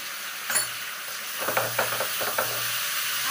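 Soybean chunks stirred and roasted in a pan with kitchen king masala, giving a soft steady sizzle broken by several scraping stirs of a spoon against the pan.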